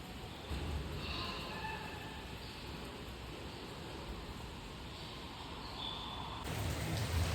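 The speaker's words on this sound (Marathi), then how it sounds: "पाऊस पडतोय भरपूर" Steady, dense monsoon rain in Panvel, India, hisses continuously at an even level throughout, a broad wash of falling water with no voices.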